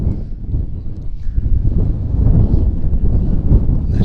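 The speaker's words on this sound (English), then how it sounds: "And it is windy." Steady, loud wind buffeting the microphone outdoors at a track meet in Alice, Texas, a rough low rumble that swells slightly toward the end with no other sounds.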